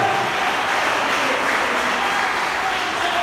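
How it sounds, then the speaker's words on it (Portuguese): A congregation at a worship service gives loud, sustained applause, a dense unbroken wash of clapping hands at steady volume. "dá um forte aplauso a Ele"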